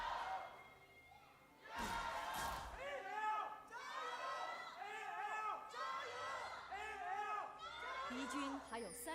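An esports arena crowd at an LPL Spring Split match lets out half shouts and rhythmic LGD chants, loud and reverberant, with a caster talking over the noise.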